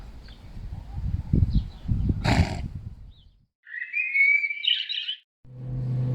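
Turtle doves chirp and give a warbling call amid background rustle and low noise, followed by a low steady hum.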